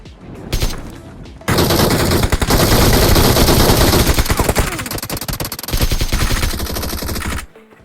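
Automatic P90 gunfire in BGMI (PUBG Mobile), a long, loud burst of rapid shots after a brief opening shot, continuing for several seconds with dense fusillade before cutting off.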